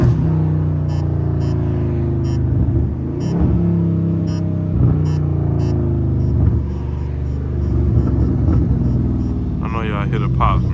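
A loud Dodge Charger Scat Pack exhaust rumbles continuously from inside the car through repeated downshifts, with revving surges and crackling pops, a voice talking over the engine.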